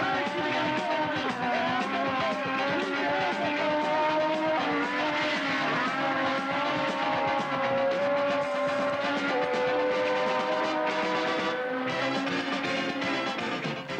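Formula One race cars roar past on a circuit, with a Ferrari slowing as it enters the pits, engines droning loud and continuous with shifting pitch throughout.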